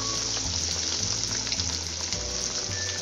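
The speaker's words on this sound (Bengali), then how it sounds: "গোল্ডেন ব্রাউন কালার করে আমি কাটলেটগুলোকে ফ্রাই করে নেব" Egg cutlets fry in well-heated oil in a wok, giving a loud, continuous sizzle that crackles evenly for several seconds, with no voices.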